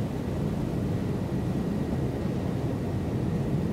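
A vintage DC-3 propeller airliner in Microsoft Flight Simulator with its throttles eased back, giving a steady, low droning engine hum that holds constant with no other sounds.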